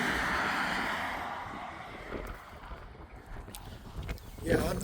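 Wind gusts outdoors beside a 1973 Chevy C10 truck, a steady broadband rush buffeting the microphone, strongest at the start and easing slightly, with a few faint knocks and bumps mixed in.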